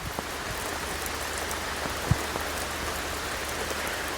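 Steady rain falls during a rainstorm, a dense even hiss of drops on surfaces with a few louder close drips standing out, continuous and fairly loud with no voices.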